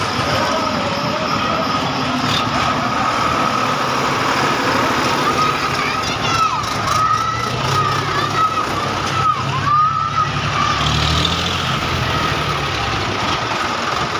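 Tractor engines run with a steady, loud drone throughout, a low rumbling hum and a few faint higher tones drifting over it.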